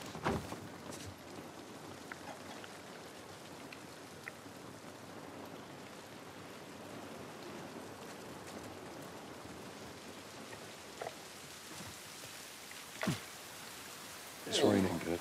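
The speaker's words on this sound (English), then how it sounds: "This rain ain't gonna do us any good." Rain falls steadily as even hiss in an outdoor scene of The Last of Us Part 1, constant and moderately loud with a few brief louder knocks and thuds near the end.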